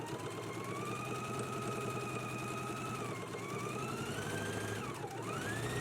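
A sewing machine runs steadily while understitching a collar band's facing to the seam allowance close to the seam, giving a continuous, even motor hum with a rapid needle rhythm throughout, with no voices.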